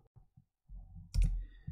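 A few soft computer mouse or keyboard clicks, faint and isolated in a quiet room, with a slightly stronger click cluster near the end.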